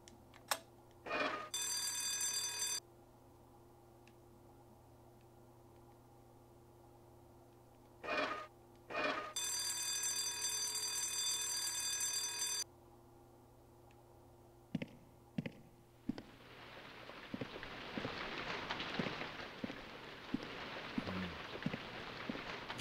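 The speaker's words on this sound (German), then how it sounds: "Alarmanlage?" An alarm system rings in the White Day horror video game: two long buzzing electric rings separated by quiet pauses and scattered clicks, followed by a steady rain-like hiss.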